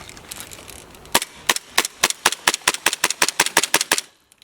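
Airsoft SSP-45 carbine kit built around a Hi-Capa pistol firing a rapid string of about fifteen sharp, evenly spaced cracks, loud and close, ending in a brief pause without talk.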